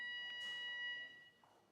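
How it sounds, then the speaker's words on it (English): A fire alarm beeps in a kitchen as food warms in the oven, a shrill tonal beep that sounds steadily and then cuts out partway through. "Fire alarm?"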